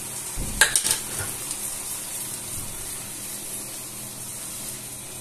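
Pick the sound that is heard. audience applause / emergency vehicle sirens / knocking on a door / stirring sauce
stirring sauce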